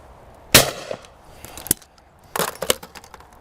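A 2025 Blaser FBX shotgun fires at clay targets outdoors, with sharp cracking reports, the first loudest and the later ones less prominent and followed by faint rattles, over quiet background.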